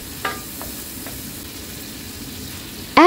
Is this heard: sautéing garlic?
yes